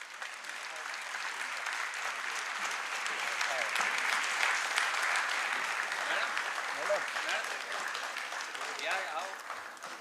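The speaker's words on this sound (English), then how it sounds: "Have a huge round of applause," An audience at a moot court competition's silver jubilee ceremony applauds the winning team, a steady wash of many hands clapping that swells slightly midway and carries on for about ten seconds, with faint voices mixed in.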